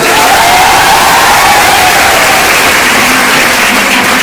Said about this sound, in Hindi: ये बिहार शरीफ की पुण्य भूमि के लिए एक बार जोरदार ताली